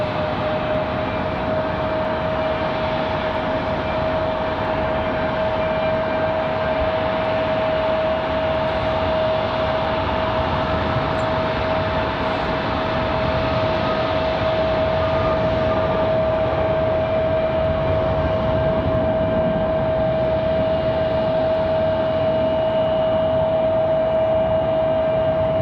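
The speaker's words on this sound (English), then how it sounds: "Can hear one of the E175s just below us starting up." An Embraer E175 jet spools up at Raleigh-Durham airport, a steady distant engine whine holding one bright tone over a broad constant rumble, with no voices throughout.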